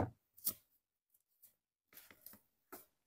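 Scissors snipping raffia crochet yarn, several short quiet crisp cuts spaced apart in an otherwise silent room, close by with no voices.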